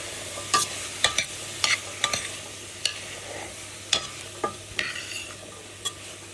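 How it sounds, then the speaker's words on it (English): Organic pinto beans being stirred in a cooking pot, with a series of distinct scraping and clacking strokes at an irregular pace over a faint low hum, close and fairly quiet. "I've rinsed the organic pinto beans and pop them in. Give it another stir."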